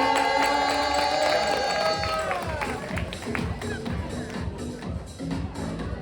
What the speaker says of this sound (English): Next up, big round of applause, Amanda Johnston.